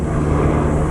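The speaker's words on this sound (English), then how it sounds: "Oh, it's a helicopter." A helicopter flies overhead, its engine a steady, loud droning rumble that fills the moment without any voices.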